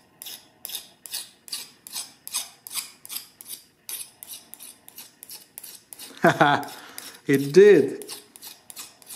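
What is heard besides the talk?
file sliding on hardened steel knife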